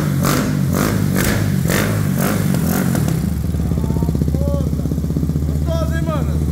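A motorcycle with a Twister 86mm engine revs hard in repeated throttle blips, then settles into a rough, pulsing idle with clattering mechanical noise, close and loud; faint voices underneath.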